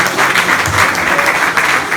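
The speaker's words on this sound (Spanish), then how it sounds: "Dense un aplauso ustedes mismos por saber las escrituras." A church congregation applauds steadily and loudly throughout, a dense wash of clapping from many hands with no pauses.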